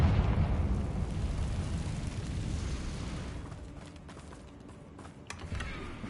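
Fiery Confringo spell blast in Hogwarts Legacy on PS5, a loud booming burst that rumbles and slowly fades over several seconds, followed by a few faint crackles and small pops.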